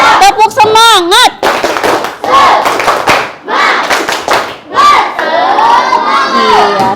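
A sixth-grade primary school class doing a rhythmic spirit clap, with the clapping mixed into loud, shouted group chanting from the children, close and busy throughout.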